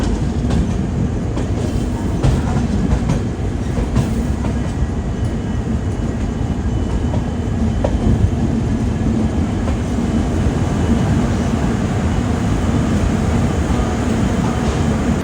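A train rumbles steadily at Mysore Junction railway station, with continuous loud wheel and carriage noise and faint rhythmic clacking, no voices over it.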